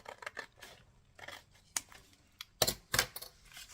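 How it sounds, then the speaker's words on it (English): Scissors snipping through a leftover strip of paper page from a handmade journal, a few crisp close cuts in short bursts with brief pauses between, no talking. "just cut the rest of it off with a pair of scissors"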